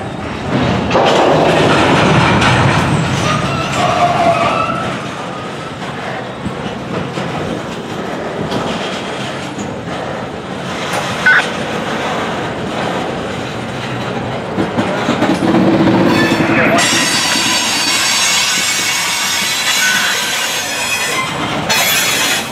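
A long CN freight train with GP9RM locomotives and empty hopper cars rolls past close by, a steady rumble of wheels with rhythmic clacking over rail joints and occasional metallic squeals, no voices.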